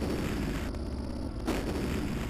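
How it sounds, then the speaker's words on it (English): Explosions from the Amiga game Run the Gauntlet: a continuous, loud rumbling blast texture with a brief dip midway and a renewed burst near the end, no voices. "Explosions slow you down."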